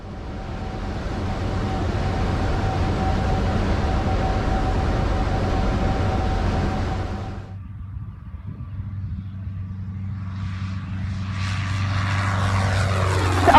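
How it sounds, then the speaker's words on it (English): Small propeller plane taking off from runway 20, a steady loud engine drone with propeller hum, briefly dipping in the middle before building again as a band of higher whine rises toward the end. "runway 20, cleared for takeoff"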